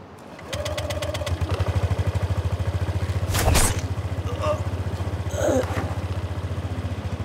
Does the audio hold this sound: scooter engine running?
yes